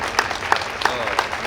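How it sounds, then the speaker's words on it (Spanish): Audience applause in a hall at Money Expo Mexico 2023, a steady patter of clapping with a few sharper accents, moderately loud and close. "Ya grabaste un chingo de aplausos."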